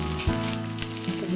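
Oiled, loosened udon noodles pan-frying over low heat in an oiled wok as they are flipped, giving a brief, close hiss of sizzling with a soft thud of the noodles turning over.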